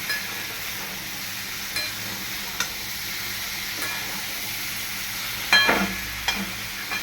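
Katla fish with mixed vegetables and raw jackfruit is stirred in a pan, giving a steady close hiss with a few soft clinks and one louder scrape near the end.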